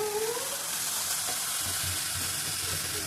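Raw banana flower sizzles and hisses steadily in hot spiced oil in a pan, a continuous close frying sound with faint stirring scrapes.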